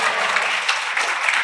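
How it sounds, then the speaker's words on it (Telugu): An audience at a church fasting service in Andhra Pradesh breaks into loud, dense clapping that stays steady and close for a brief burst. "చప్పట్లు కొట్టండి గట్టిగా."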